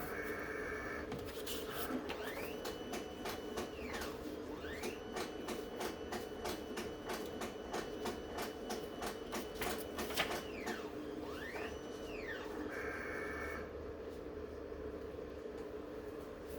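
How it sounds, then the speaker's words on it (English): Quiet mechanical whirring with rapid rhythmic clicking and occasional rising and falling tones, running steadily throughout, from a BN20 machine running its self-cleaning cycle. "If you hear something like a spaceship, sorry, it's my BN20 doing its self-cleaning."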